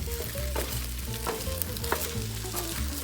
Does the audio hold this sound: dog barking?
no